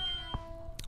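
A game buzzer from a Jeopardy-style podcast game gives a steady electronic tone with a short click partway through, heard close and alone.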